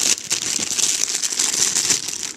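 A knife cuts a piece off a scented soy wax tart, producing a steady crinkly, scraping crackle that runs continuously and close up, with no talking.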